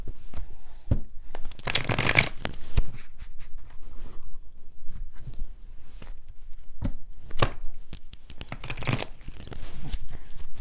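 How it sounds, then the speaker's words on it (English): Tarot cards are shuffled in quick riffling bursts, with crisp snapping and fluttering sounds broken by brief pauses and soft handling noises. "let's do a couple of shuffles on camera"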